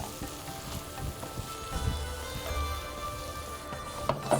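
Meat sizzling and frying in a small pan during Bohri breakfast cooking, a steady crackling hiss that runs throughout at close range with occasional faint clinks of utensils.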